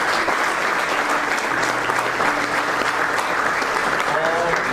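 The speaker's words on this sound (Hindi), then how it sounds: "मैं उनका भी जोरदार तालियों से स्वागत करता हूँ।" A dense, steady roar of audience applause welcoming guests onto a stage at an Indian event, loud and continuous for several seconds, with faint voices underneath.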